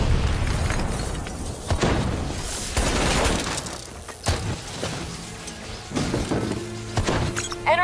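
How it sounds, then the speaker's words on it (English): Rogue robots detonate in Call of Duty: Black Ops III, a string of heavy explosions and shattering blasts with booming rumble and debris, loud and close, repeating over several seconds. "They're about to detonate!"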